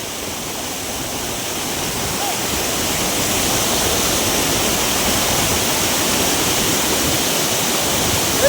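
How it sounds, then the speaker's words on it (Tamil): Heavy floodwater rushes past during a cyclone, a loud, steady, broadband roar of flowing water that stays constant and close throughout, with no talking. "தண்ணி பாருங்க ஹெவியா போயின்னு இருக்கு"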